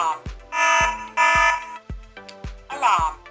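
A Hikvision AX Pro security system alarm sounds in loud, repeating siren bursts with sharp tonal pulses, close and insistent.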